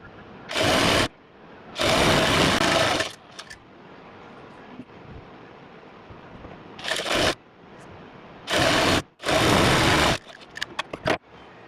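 A sewing machine stitches the hem of a baby dress in several short loud bursts with quiet gaps between them, and faint handling clicks follow the final run.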